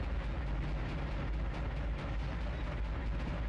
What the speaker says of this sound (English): The second cannon does shoot.